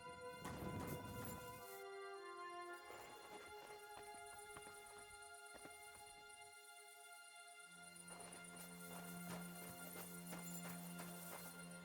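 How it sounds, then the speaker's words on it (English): Horses clip-clop in the medieval video game Kingdom Come Deliverance, faint, steady hoofbeats set against game ambience and a sustained musical drone, with no talking. "So I hear horses."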